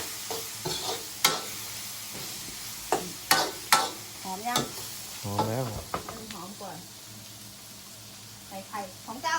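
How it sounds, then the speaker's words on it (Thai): Pork stir-fries in oil in a wok for fried Mama instant noodles, with a steady sizzle and repeated sharp scrapes and knocks of a spatula while people talk nearby. "ใส่น้ำมันเพิ่มนิดหน่อยอันนี้คือรวนหมูก่อน"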